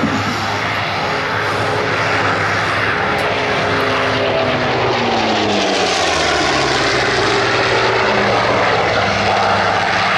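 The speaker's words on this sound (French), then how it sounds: "Regardez l'atterrissage du Bronco, ça s'arrête en 5 longueurs de fuselage." An OV-10 Bronco twin-propeller aircraft lands at an air show, its loud, steady propeller drone filling the whole stretch with a shifting engine pitch as it passes and slows, no voices over it.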